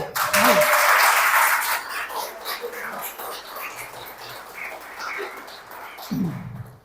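A church congregation applauds during a worship service, starting strong, then fading into softer scattered clapping and murmuring before a voice returns at the end.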